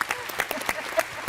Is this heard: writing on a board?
no